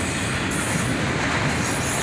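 A CSX freight manifest train hauled by SD40-3 and SD42 locomotives with a mid-train DPU rolls past close by, a loud continuous rumble of wheels with high metallic squeal.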